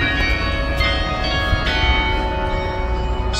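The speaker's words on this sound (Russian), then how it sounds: "Ну это же вот это колокола на церкви, правильно?" Church bells in Riga's old town ringing continuously with a sustained, overlapping metallic resonance, fairly loud and steady with no talk over them.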